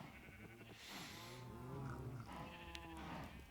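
Sheep in Minecraft bleat several times in short wavering calls, fairly faint, over a quiet background with no talking.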